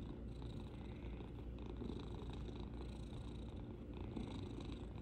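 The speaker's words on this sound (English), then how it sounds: "He's just purring away." A cat purring close and continuous, a soft rumbling drone that keeps going at an even level without a break, faint and intimate.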